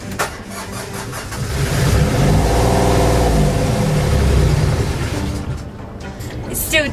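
A sailboat's engine cranks and fires, climbs to a loud, high rev for several seconds, then sinks back and cuts out, all of it close and continuous.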